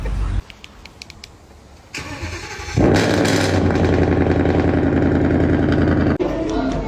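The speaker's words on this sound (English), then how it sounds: "You can start the engine, please?" Supercar engine starting up close, a whirring crank followed by a loud roaring catch that settles into a strong, steady idle.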